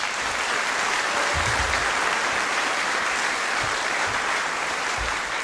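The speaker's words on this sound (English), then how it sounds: "Let's give the PTO a quick round of applause." Audience applause at a senior awards evening for the school PTO, a steady dense wash of clapping that holds at even loudness throughout, with no voices over it.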